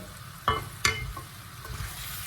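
Meat cut into large biryani-sized pieces, premarinated in biryani spice, is stirred with yogurt in a hot pan, giving a low steady sizzle broken by two sharp scraping clatters of the spoon, close and without speech.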